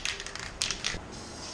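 Aerosol spray paint hissing onto a Mazda Miata valve cover in diagonal passes, several short close bursts with brief gaps between them.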